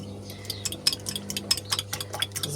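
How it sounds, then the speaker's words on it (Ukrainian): A whisk clicks quickly and rhythmically against a bowl, beating two eggs with salt in steady rapid strokes up close, with the low hum of a washing machine running underneath. "яйце взбили"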